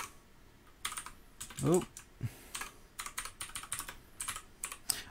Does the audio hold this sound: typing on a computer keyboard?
yes